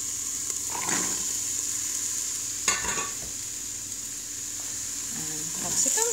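Vegetables frying in the hot inner pot of an Instant Pot for an Indian curry: a steady high sizzle with occasional scrapes and stirring clatter of a utensil, close and fairly loud, no talking.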